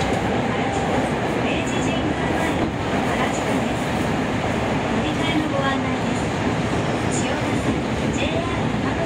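A Tokyo Metro 7000 series subway train on the Fukutoshin Line rumbles steadily with loud, continuous track and motor noise, a recorded Japanese announcement voice faintly audible over it.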